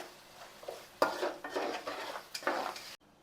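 A spoon stirs turmeric and chili powder into a pot of frying base for an old-style home fish curry, giving several distinct scraping, clattering strokes against the metal at moderate closeness, with no talking.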